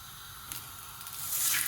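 Green plantain pieces frying in a little oil on a dosa griddle give a soft, steady sizzle and hiss that swells slightly toward the end, heard alone without voices.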